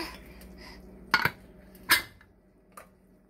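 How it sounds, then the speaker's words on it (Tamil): Pressure cooker lid being closed on a pot of seeraga samba chicken biryani: two sharp metallic clanks close together, then a lighter clink, over quiet kitchen background. "குக்கரை நான் மூடுறேன்"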